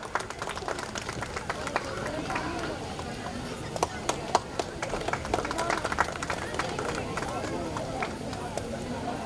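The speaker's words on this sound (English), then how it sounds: "So you give a huge round of applause for him." An audience at an annual cultural event applauds a chief guest, with dense, steady clapping from a crowd that fills the room and continues throughout at even loudness.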